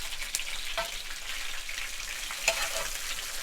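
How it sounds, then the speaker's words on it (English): Pieces of snapping turtle fry Cajun style in a pan with a steady, fairly quiet sizzle, broken by a couple of brief louder pops or stirs. "we're gonna fry this a little while"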